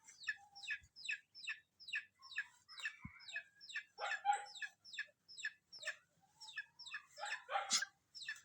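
Chickens clucking and squawking in a farmyard where ducks are also kept, a dense run of short, rhythmic calls repeating close by with a louder burst near the end.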